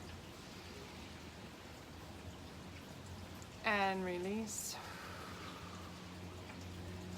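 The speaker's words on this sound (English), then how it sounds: "All of this rain is making my basement cry" Soft, steady rain falls outside a house with a basement, a faint continuous hiss under a calm voice giving breathing cues, with one brief louder tonal swell midway.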